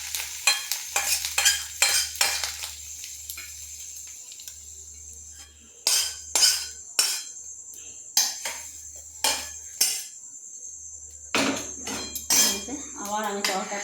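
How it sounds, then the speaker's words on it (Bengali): An egg frying in a pan, a series of sharp, loud spatula clanks and scrapes against metal over faint sizzling, with pauses between strokes and a voice near the end. "এইভাবে ভেজে নেবো ডিমটা"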